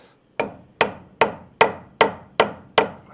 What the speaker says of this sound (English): now we just straighten it out with a hammer, get it level